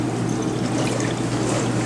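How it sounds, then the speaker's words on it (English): A liquid layer from a eugenol extraction being poured out through the top of its vessel into a waste beaker in a chemistry lab, a steady close trickle and splash running throughout with no voices. "You can pour it out through the top, Jan."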